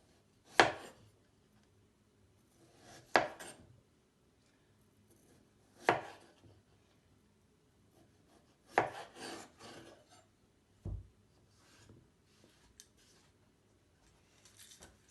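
A knife cuts into a potato to carve a stamp for block printing. Separate soft scraping and cutting strokes come every few seconds, quiet and close, with no talking.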